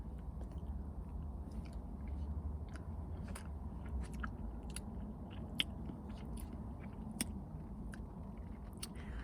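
Someone eats slightly thawed KitKat ice cream with extra crunchy KitKat pieces: close, quiet chewing with a scattering of sharp, irregular crunches and bites, and no talk.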